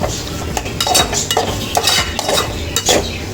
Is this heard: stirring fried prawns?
yes